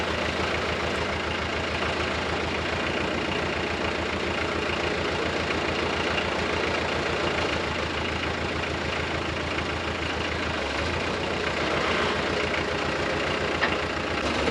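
A Nissan diesel swapped into an Oliver OC-3 crawler idles steadily and loudly up close, a continuous rough low rumble with even texture throughout and no voices.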